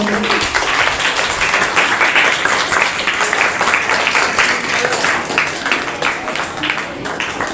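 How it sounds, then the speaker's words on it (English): Steady audience applause at a school debate competition, a dense, fairly loud round of clapping that continues for over seven seconds with faint voices underneath. "Okay, clap for him."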